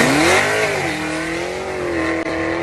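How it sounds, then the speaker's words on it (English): A small four-cylinder car engine with a full straight-pipe exhaust revs hard and high, its pitch climbing then holding in a loud, raspy scream close by. "Let's hear that little four-cylinder scream down my neighborhood road at 3 in the morning."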